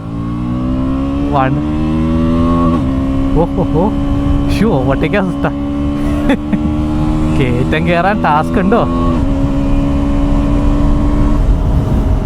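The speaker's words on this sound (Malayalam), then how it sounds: "ഫുൾ ത്രോട്ടിൽ കൊടുത്തോട്ടാണ് ഞാൻ പോകുന്നത്." A KTM Duke 160 motorcycle engine drones steadily at high revs under full throttle throughout, with someone talking over it in several bursts.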